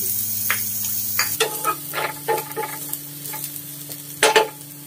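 Garlic frying in a pan for beef with bitter gourd: a low steady sizzle with frequent spatula scrapes and taps, a louder clatter near the end, no talking.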